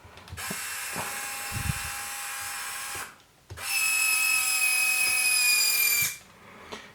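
The winch on an Axial Capra RC crawler whirs in two long electric runs of about three seconds each, a steady high motor whine with a short pause between, close up and without talk.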